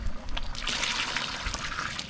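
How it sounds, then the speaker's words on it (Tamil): Tamarind water pours into a pot of cooking sambar with a soft, steady trickling splash, quiet and close, without talk. "இதுக்குள்ளே புளி தண்ணி சேர்த்துக்கலாம்"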